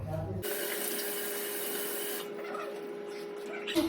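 Tap water runs steadily into a sink during face washing with cleanser, a close, even hiss lasting about two seconds before it drops to a quieter trickle.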